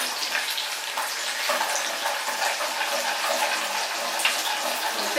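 Steady running water from a tap while garlic and other ingredients for a raw papaya pickle are washed, a continuous splashing hiss throughout with no talking.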